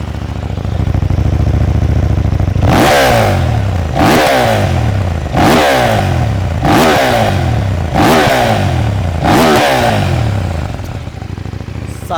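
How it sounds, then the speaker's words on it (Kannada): A KTM 890 Duke R parallel-twin motorcycle sits running close by, its exhaust barking through about six sharp, loud revs in a steady rhythm over a rumbling idle, with no talking. "ಅದಕ್ಕೆ ಮುಂಚೆ ಒಂದು ಸಲ ಗಾಡಿದು ಎಕ್ಸಾಸ್ಟ್ ನೋಟ್ ಕೇಳೋಣ."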